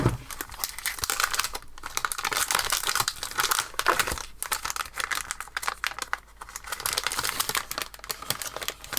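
Paper crinkles and rustles while art supplies are unpacked from a large surprise box, close and busy, with bursts of crumpling and brief tearing-like scrapes broken by short pauses.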